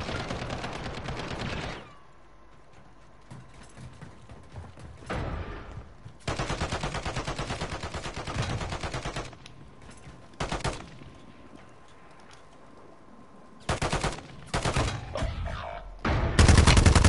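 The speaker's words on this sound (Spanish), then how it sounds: "Algo nuestro compito llegó derramando balazos." Bursts of rapid game gunfire rattle in several volleys, separated by quieter gaps, with dense automatic fire near the end.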